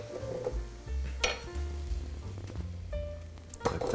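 Noodles simmering and sizzling in a pan on a stove, with light clinks of a utensil against cookware and occasional stirring scrapes, close and moderately loud with no talking.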